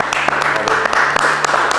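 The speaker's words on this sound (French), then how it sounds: "je pense que déjà messieurs, on peut une nouvelle fois les applaudir." Audience applause for contestants at a hair-cutting battle show, steady broadband clapping throughout the short burst with a faint voice underneath.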